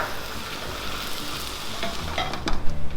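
Rice tossed and stirred in a hot frying pan with turmeric, a continuous close sizzle with scraping stir sounds and a few sharper clanks near the end, with no talking.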